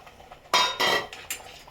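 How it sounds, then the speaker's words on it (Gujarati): Three or four quick scraping strokes of a metal spoon against a pan while stirring Schezwan sauce with added water, close and fairly loud, with brief pauses between them. "અને આવી રીતે હલાવી દઈશું."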